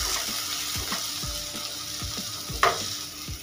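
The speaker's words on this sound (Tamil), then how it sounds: "சேர்த்துட்டு அதையும் கொஞ்சம் நல்லா வதக்கி எடுத்துக்கிறேன்." Onions and tomato sizzle steadily in a hot pan for egg curry, with repeated soft scraping strokes of a spoon stirring through them, close by.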